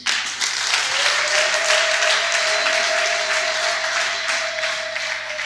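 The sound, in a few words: applause in church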